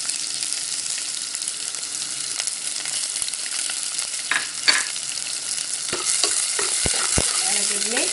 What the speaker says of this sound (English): So just roast it slightly, and then add in all of your onions and garlic.